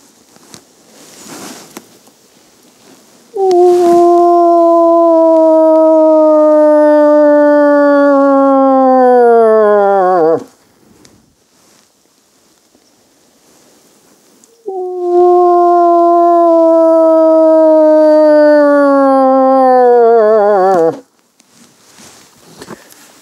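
A hunter imitates a cow moose calling for a bull. Two long, loud, nasal moans are voiced by a person, each lasting about six seconds and falling in pitch at the end, with quiet pauses between them.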